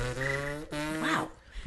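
Someone imitates a bird chirp with their voice, producing two short, bright, tonal calls, the second bending sharply up and then down, close by and alone.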